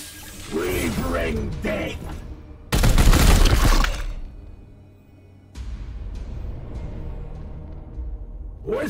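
Bursts of rapid gunfire in Warhammer 40,000: Chaos Gate - Daemonhunters crackle over mechanical clatter and a voice, with one loud, dense volley in the middle.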